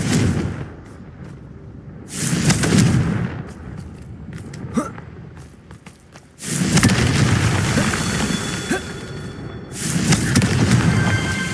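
Repeated heavy booming blasts from the Confringo spell in a Harry Potter video game come in several loud bursts, with rumbling decay and quieter crackling game effects between them.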